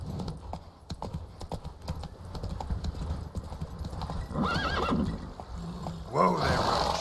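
Geralt's horse Roach clip-clops along at a steady pace in The Witcher 3, then lets out two loud neighs near the end, with faint game ambience underneath.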